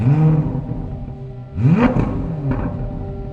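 A 2023 Chevrolet Corvette Z06 engine revs up sharply in two loud, rising surges, each dropping off between pulls, with a brief third flare near the end and road rumble beneath.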